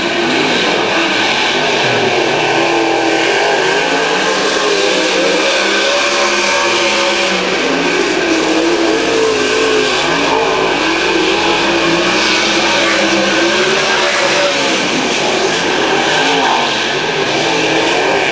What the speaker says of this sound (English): Sprint car racing. Green flag flies, we're back underway.